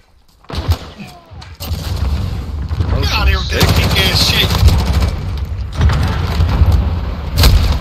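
Loud automatic gunfire in Call of Duty Modern Warfare hardcore multiplayer: a sharp opening shot, then sustained rapid bursts and heavy reports running through most of the stretch, close and punchy, with brief pauses and a voice underneath.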